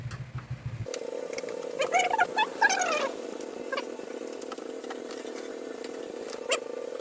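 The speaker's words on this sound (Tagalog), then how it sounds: "kailangan natin na gagamitin natin na yung screwdriver. So may 4 na screw yung power supply." A screwdriver removing the four screws from a computer system unit's power supply, heard as a steady close motorized whirring drone with scattered metallic clicks and scrapes over it.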